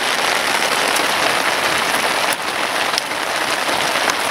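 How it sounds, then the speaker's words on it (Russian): Rain drums steadily on a shelter in the taiga at night, a close, dense patter of drops with a few sharper taps standing out, continuing without pause and with no voices. "Дождик барабанит."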